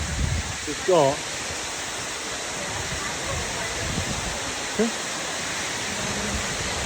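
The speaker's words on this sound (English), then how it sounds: "It's got like an inverted dome on the roof, and when it rains, obviously it comes flying in." Heavy rain pours through an inverted roof dome into a Dubai shopping mall during floods, a steady loud rushing wash like a waterfall filling the whole space, with brief voices and a short thump near the start.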